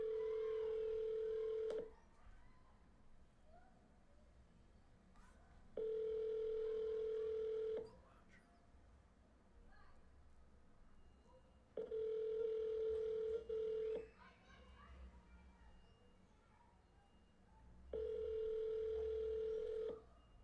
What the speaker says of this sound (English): Let's call. Let's get on the phone.